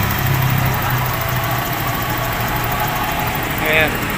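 A car engine with a new timing belt idles steadily with a low, even rumble, heard close by, with a brief rise in noise near the end.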